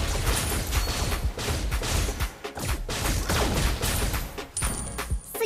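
Layla's gun fires during Mobile Legends gameplay, a dense and continuous stream of rapid synthetic shots mixed with game effects, loud and steady throughout.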